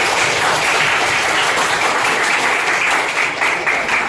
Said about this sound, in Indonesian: kita kasih aplaus buat kelompok proteinisten